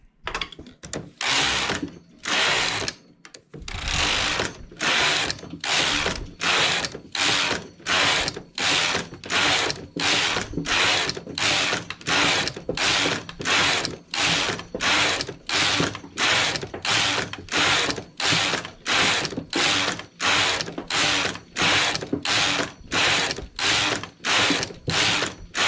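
A domestic knitting machine works an English rib stitch variation, its carriage passing back and forth in a fast, regular series of sharp ratcheting clacks, loud and close, repeating steadily with no voices.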